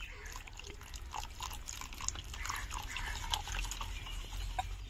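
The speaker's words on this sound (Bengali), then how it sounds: "এবার আমি অল্প অল্প জল দিয়ে ভালো করে ব্যাটারটা তৈরি করে নেব।" Water is added little by little to semolina batter for steamed bhapa pitha, producing faint wet drips and soft sloshing as the mixture is stirred in a quiet kitchen.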